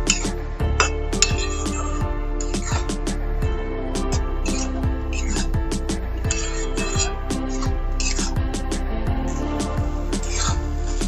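A metal utensil scrapes and clinks steadily against a pan while green banana paste is stirred together with turmeric and salt in a Bengali kitchen, with a close, continuous rhythmic clatter throughout.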